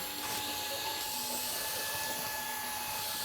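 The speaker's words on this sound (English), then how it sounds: "It becomes a handheld vacuum cleaner." A Dreame M12 in handheld vacuum mode runs on a tabletop with a constant airy whine and hiss. It stays at an even level throughout, with no voices.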